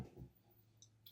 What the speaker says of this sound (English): Don't know if you can hear that clicking away.